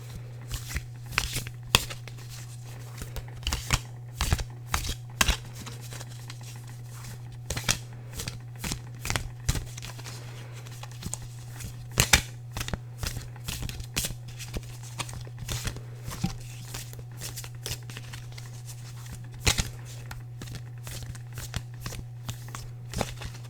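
Tarot cards being shuffled in repeated riffling bursts, crisp and close, with a steady low hum underneath and brief pauses between shuffles.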